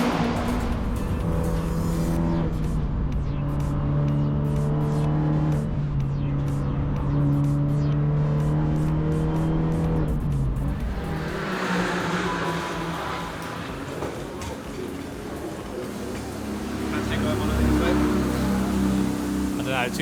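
Race cars lapping the Nurburgring, with engines screaming and revving as they pass close by, then fading before another car approaches, while a voice talks underneath.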